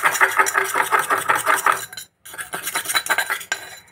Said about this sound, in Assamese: সেইখিনি ইয়াতে দি ধুনীয়াকৈ মিহি কৰি লওঁ এনেকৈ চামুচ এখনেদি।